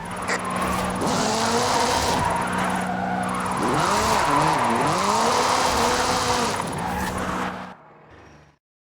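A car drifts in Forza Horizon 5 in the Mexico drift club setting, its engine revving and falling in loud, close surges with tire squeal through the slides before the sound cuts out and fades near the end.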